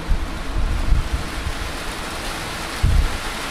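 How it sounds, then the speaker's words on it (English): Steady rain pours down while low thunder rumbles roll in twice, once early and once near the end, all fairly loud and close with no voices. "It's raining."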